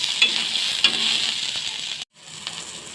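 Garlic, a dried red chilli and salt fry in a pan with a steady, bright close sizzle and occasional light stirring scrapes, broken by a brief dropout near the end.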